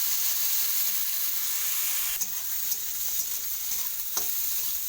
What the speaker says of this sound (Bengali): আলুগুলোকে খুব ভালো করে ভাজা করে দেবো, একটু লাল লাল করে।